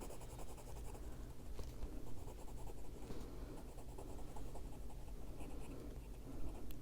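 Pen or marker inking an adult coloring page on paper, a steady close scratching and rubbing across the whole stretch with small rhythmic strokes, no talking.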